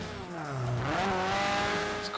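Racing car engine with a loud exhaust in the Forza 5 online racing game, revving steadily close up, its pitch dipping then climbing and holding for about two seconds with no talk.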